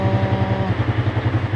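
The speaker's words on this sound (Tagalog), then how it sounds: "so nagkakaroon ng acceleration sa makina or tumataas ang idle" Small motorcycle engine idling close up, its idle rising as the choke cable moves during troubleshooting; a steady low throbbing pulse runs throughout with a faint whine fading early.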